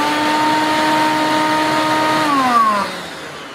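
Vintage Craftsman shop vac running with a loud steady whine and rushing airflow, its pitch dropping sharply as the motor winds down near the end.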